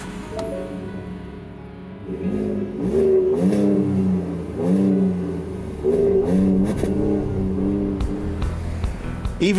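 Ford F-150 4x4 pickup with a 3.5-liter V6 EcoBoost engine revs in a few rising and falling bursts, fairly close and loud, with scattered clicks and knocks between the revs.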